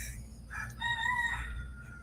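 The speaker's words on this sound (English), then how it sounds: "You can hear the roosters" A rooster crows once outdoors, a fairly faint, drawn-out call that rises and falls against a low, steady background hum.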